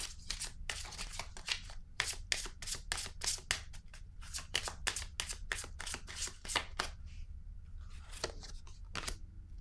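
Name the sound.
drawing tarot cards from the deck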